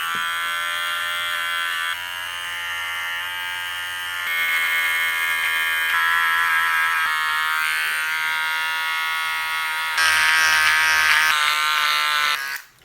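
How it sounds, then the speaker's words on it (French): An electric hair trimmer with a clipper head drones in a steady, high buzzing tone while shaving contours, close and continuous, its pitch and loudness shifting slightly as it moves over the skin before switching off. "j'ai fait les contours avec la tête de tondeuse"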